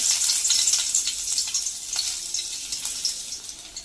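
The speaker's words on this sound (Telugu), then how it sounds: "ఆయిల్ వేడైన తర్వాత వెల్లుల్లిపాయలు ఇదిగోండి చిన్న చిన్న పీసులు కట్ చేసి వేసుకోవాలి" Small chopped garlic pieces frying in hot oil for chicken majestic, giving a dense, bright, continuous sizzle up close that gradually eases in intensity, with a few faint crackles and no talking.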